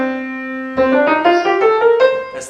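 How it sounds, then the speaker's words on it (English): Piano playing the C Dorian scale: one held low note, then a rising run of single notes in quick, even steps, clear and close with no talking. "That's the C Dorian scale, and it sounds like this in the end."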